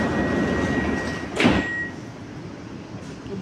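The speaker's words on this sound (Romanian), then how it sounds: "Se închid ușile." Sliding doors closing on a Bombardier Movia BM21 metro train, a single short rush-and-thud near the middle over steady carriage hum, with a faint chime tone around it.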